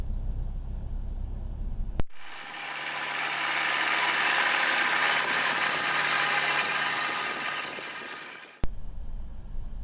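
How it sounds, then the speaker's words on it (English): Rotax 912 iS fuel-injected aircraft engine on a Zenith STOL CH 750 roars steadily for several seconds, starting abruptly and cutting off just as suddenly, loud and close with a smooth even drone and no talk. "The new Rotax 912 IS fuel injection engine is a lot smoother than the traditional 912 IS engine with the carbureted engine."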